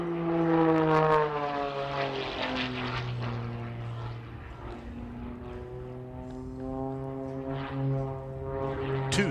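Propeller aerobatic airplane performing a routine at the SUN 'n FUN Aerospace Expo airshow, its engine droning loud and steady with a rising and falling pitch as it maneuvers overhead.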